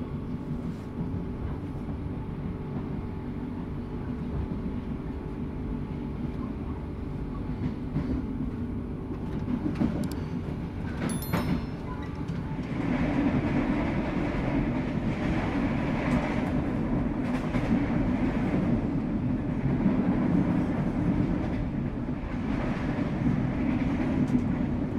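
The Dharmawangsa executive-class passenger train runs at night between Surabaya and Jakarta, a steady rumbling roar with rhythmic rail clatter heard from inside a carriage, growing slightly louder partway through.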